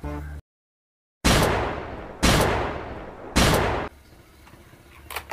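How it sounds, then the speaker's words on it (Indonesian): Toy cowboy revolver fired three times in even succession, each a loud sharp crack with a short decaying tail, close up after a brief silence. "Ini pistol cowboy."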